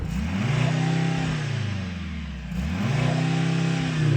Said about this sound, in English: I'm going to rev this car up.